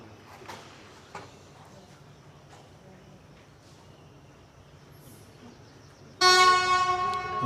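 A train on the still-active railway at Hellfire Pass in Kanchanaburi, Thailand, rumbles softly at first, then its horn sounds loud and sustained near the end, with faint outdoor background throughout.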